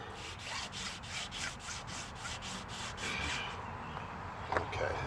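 Wet sandpaper rubbing in even back-and-forth strokes across the car paint of a 1957 Chevrolet Bel Air, close and steady, with a faint knock near the end.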